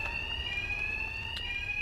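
An alarm rings in Batman: Arkham Knight, a steady, piercing electronic tone that holds continuously without breaks at a moderate level, with no voices.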